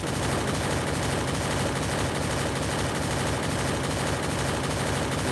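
Dense, continuous automatic gunfire in the Free Fire battle royale game, loud and unbroken rapid bursts filling the whole stretch with no pauses.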